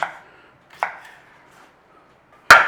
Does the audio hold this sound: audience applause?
no